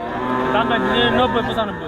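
A cow lows at a busy rural cattle market in Hazratpur. One long, close, loud moo runs for nearly two seconds, with a faint murmur of people behind it.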